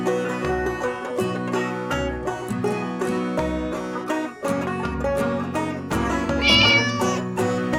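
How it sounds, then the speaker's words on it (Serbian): A cat meows repeatedly in tonal, drawn-out calls over a rhythmic musical backing that runs throughout. "Mačka"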